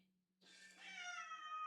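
A kitten crying inside a home, one long, rising, drawn-out meow that swells in loudness and holds, close and clear against a quiet room with a faint low hum.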